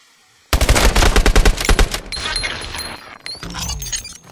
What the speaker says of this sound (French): Tire en premier, Mitchell.